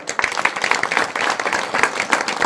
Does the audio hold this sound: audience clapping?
yes